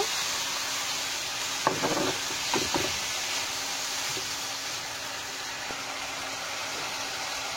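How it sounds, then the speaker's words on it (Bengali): Raw mung dal poured into sizzling fried spices in a hot pan gives a couple of short rattling bursts over a steady frying hiss, close and moderate in level. "এখন আমি ডালগুলো আগে ঢেলে দেব।"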